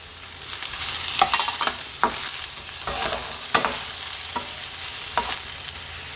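Chicken breast sautés in a hot pan for a quinoa salad, a continuous close sizzle broken by repeated scraping stirs and utensil knocks.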